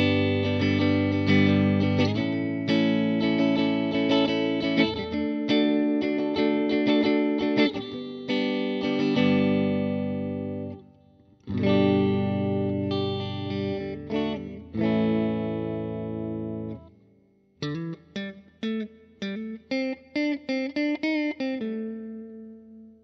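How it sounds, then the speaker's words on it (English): An electric guitar overdriven through a BOSS Super OverDrive SD-1 pedal plays sustained gritty chords and riffs, ending with choppy staccato notes, with no voices present. "let's go and hear some tones from this pedal."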